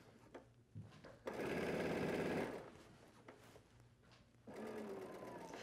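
A sewing machine stitching a men's dress shirt, running in two short bursts of rapid whirring hum with quiet handling sounds between them, close by.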